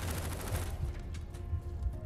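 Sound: gunshots in the video game Firewall Ultra

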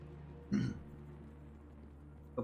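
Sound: cough

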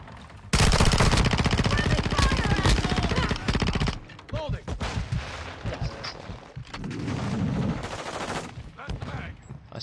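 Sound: gunfire from a gun in a video game

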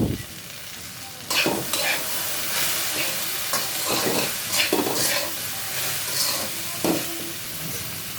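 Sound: okra frying with chili and salt in a pan

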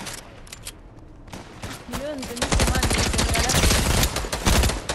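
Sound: gunfire in a video game

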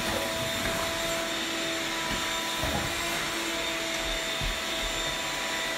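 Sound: vacuum cleaner vacuuming dust in bedroom

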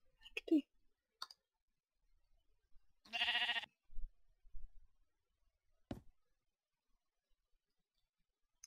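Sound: black sheep bleating in Minecraft video game

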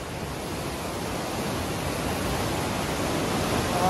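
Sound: fast-flowing water rushing in Indira Gandhi Canal

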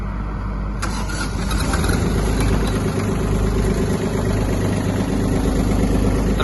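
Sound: Kubota A-15 mini tractor engine running

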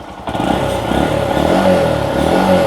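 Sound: used motorcycle engine starting first try

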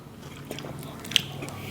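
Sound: chewing pork belly with bamboo shoots

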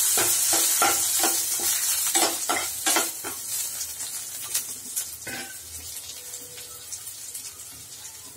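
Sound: curry leaves and dried chillies sizzling in oil

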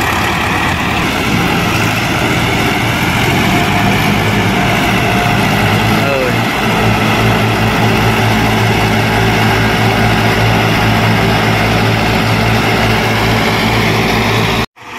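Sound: tractor engine running, converted to three-speed gearbox

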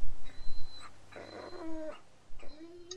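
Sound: dog whimpering in The Walking Dead video game

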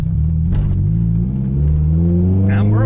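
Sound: Lotus Elise S3 car pulling away

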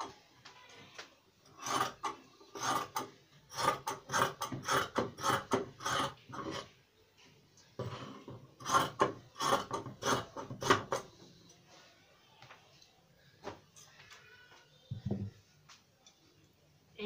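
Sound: scissors cutting fabric for a djellaba

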